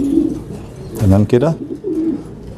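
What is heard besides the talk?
pigeon squabs cooing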